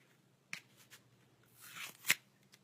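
A playing card torn by hand, with a soft rustle and one sharp ripping burst near the end, set off by a few brief clicks and crackles. It is close and fairly quiet.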